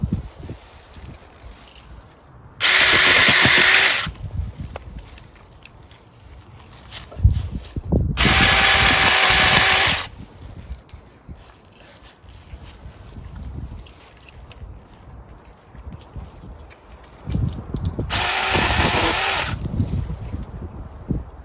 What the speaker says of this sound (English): Won't be much of a test for the mini chainsaw